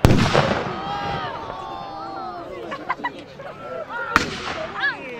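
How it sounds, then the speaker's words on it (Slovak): At a Slovak National Uprising battle reenactment, a howitzer fires with a loud, sharp boom at the start and another blast later, amid crowd chatter and outdoor commotion. "A vidíte, s kým tá hufnica bojuje? S delostreleckým prostriedkom."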